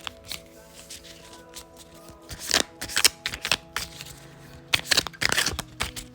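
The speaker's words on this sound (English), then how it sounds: "Let's have a little shuffle" Tarot cards are shuffled in several quick, crisp riffling bursts, with quiet pauses and faint handling noises between them.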